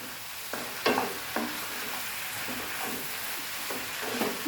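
Chopped okra stir-fries over a high flame, a constant close sizzle punctuated by repeated scraping strokes of a spatula against the pan.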